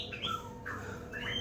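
A white-rumped shama (murai batu) singing out in the field, with several bright, loud whistled phrases and sharp chirps following one another closely over a steady background hum.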